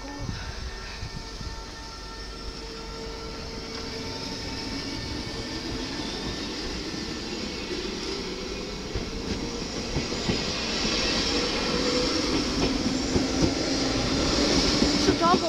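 A double NS SGMm electric train pulls out of Bovenkarspel-Grootebroek station, its rumble and clattering wheels building steadily in loudness over the whole stretch, with a voice heard talking early on.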